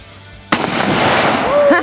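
A big rifle fires one loud, sharp shot outdoors, followed by a long echoing decay and faint ringing.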